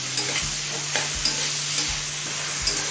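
Chopped tomato frying in a pan for prawn pulao, a steady hiss of sizzling oil broken by regular scraping strokes of a spatula about every three-quarters of a second, close and fairly loud with no voices.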